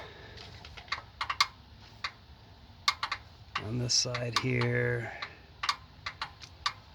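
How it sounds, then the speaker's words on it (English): Engine valve lifter clicking with a rocker arm down, a light, fairly regular tick repeating through the clip at close range, with someone talking briefly in the middle. "here comes the clicking noises"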